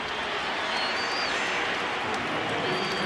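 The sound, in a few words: stadium crowd booing at Packers vs Seahawks game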